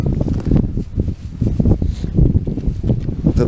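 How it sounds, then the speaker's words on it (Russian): Strong hurricane wind on a river during a fishing trip, roaring and buffeting the microphone in loud, uneven gusts throughout, with low rumbling bursts and no voices. "Сами видите, какое ветрище"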